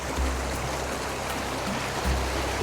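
Mill Creek rushes through a canyon near Hidden Springs in the Angeles National Forest, a steady, close hiss of flowing water with a few deeper swells and no voices.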